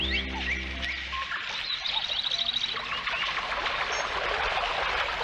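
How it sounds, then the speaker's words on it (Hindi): Small birds chirping and tweeting in a nature setting with a waterfall, quick bright calls over a soft steady background wash, some fairly close. "मैं तो बर्ड्स की चर्पिंग भी सुन सकता हूँ।"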